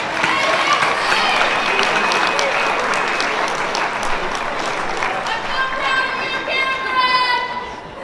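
Students and families at a Mobley High School underclass awards ceremony clap loudly and steadily for the freshman class, with cheers and children's voices mixed into the applause as it slowly fades.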